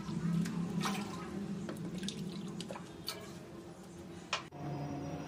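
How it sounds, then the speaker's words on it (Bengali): Four cups of water poured into a pot to start sugar syrup for langcha, a Bengali sweet: a steady, close splashing stream with a few light clinks, and no voices. "এবার আমি মিষ্টির সিরাপ তৈরি করে নিচ্ছি এখানে আমি নিয়েছি চার কাপ জল"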